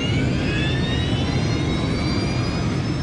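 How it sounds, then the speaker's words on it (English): An Air France airliner, Flight 358, takes off from Paris with a loud, steady jet engine roar at close range, rising whine tones running over a deep rumble. "Just a few minutes before 2 in the afternoon, Flight 358 powers into the sky above Paris."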